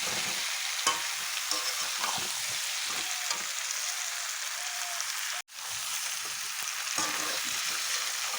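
Stuffed pointed gourd with prawns sizzles steadily in a pan while a spoon stirs gently, with soft scraping taps over continuous frying hiss and one brief dropout midway.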